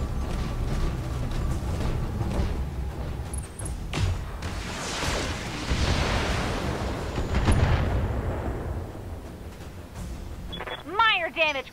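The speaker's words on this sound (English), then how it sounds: "I'd appreciate knowing that before they shot missiles at me" Missile explosions in the mech combat video game Battletech roll out as a dense, continuous rumble of loud blasts, with sharp swooping electronic chirps near the end.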